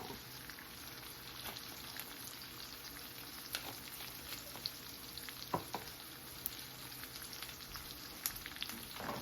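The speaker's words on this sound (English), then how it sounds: "so we're gonna stir this up" Collard greens seasoned with cumin and oregano fry in a skillet alongside cooking bacon, a faint, steady crackling sizzle with occasional soft stirring scrapes and pops, quiet and continuous with no talking.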